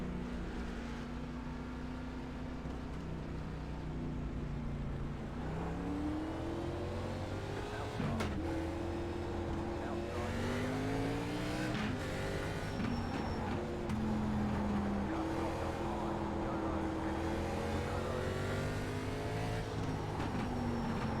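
Legends race cars lapping the Lanier short track in the iRacing video game, a continuous loud engine drone with rising and falling revs as cars accelerate and lift through the corners.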